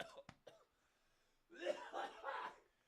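Two sharp coughs close together near the start, followed by a brief pause and then a noisy burst of voices or coughing-like sounds.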